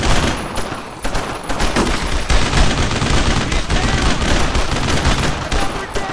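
Sustained covering gunfire in the World War II shooter Brothers in Arms, with rapid overlapping rifle and machine-gun bursts, close and loud, rattling on without pause through the whole stretch.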